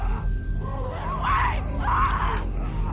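In The Walking Dead video game, a girl screams in loud, wavering cries, two sustained wails over a heavy low rumble of background noise.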